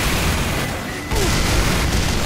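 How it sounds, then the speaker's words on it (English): Rocket explosions in the online shooter Team Fortress 2, dense booming blasts that run nearly continuously and loud, with a brief dip before the barrage resumes. "There's too many rockets going on here"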